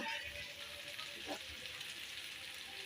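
Masala sautéing dry in a pan before fish goes in, a soft continuous sizzle with faint stirring scrapes, fairly quiet and steady from start to finish.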